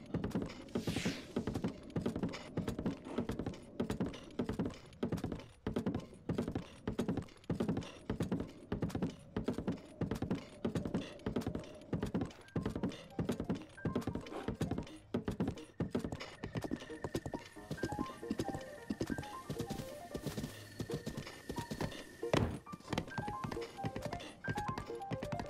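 Horse hooves clip-clop at a steady rhythmic trot in the video game Breath of the Wild, with an occasional whinny and soft background game music.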